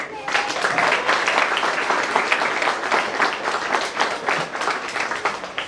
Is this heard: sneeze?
no